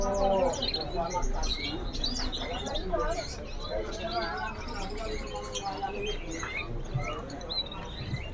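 Many canaries chirp and trill busily all at once at a bird market stall, a dense, lively chorus of overlapping calls with a voice talking beneath it.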